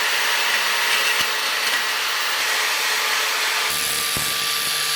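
A power drill bores holes through a metal fishing spoon, a steady loud whine running throughout with a brief pitch change near the end and no talking.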